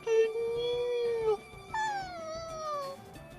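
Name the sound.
squealing whimper of a plush creature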